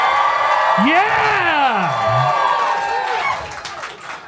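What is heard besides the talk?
crowd cheering and shouting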